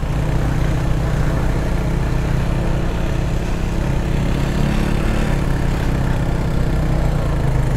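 Motorcycle engines idle and rumble together in a steady, continuous low drone, fairly loud and unbroken with no voices, in a resort setting with cottages and a pool.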